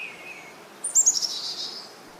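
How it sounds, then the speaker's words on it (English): Birds eating bread crumbs in a forest give a few bright, close chirps and tweets, a short rapid burst over a quiet background. "they saw birds are eating the crumbs"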